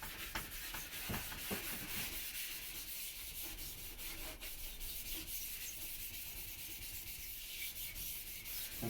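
Sandpaper rubs back and forth over a car's wet clear coat, making a continuous, quiet, even scraping with faint strokes throughout.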